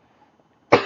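A single sudden cough bursts out after near-silence, loud and close, trailing off briefly.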